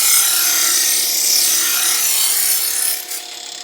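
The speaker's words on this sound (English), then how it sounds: "I'm going the lowest speed that my grinder will go." A bench grinder running at its lowest speed sharpens a large knife blade, giving a continuous bright grinding hiss with a steady motor whine beneath. It eases briefly near the end.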